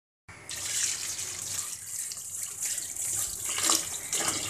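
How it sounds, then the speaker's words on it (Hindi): Tap water runs steadily into a kitchen sink while okra (bhindi) is washed, a continuous close splashing rush with faint irregular sloshes and no talking. "तो पहले आप भिंडियों को धोने का प्रोसेस देख लें।"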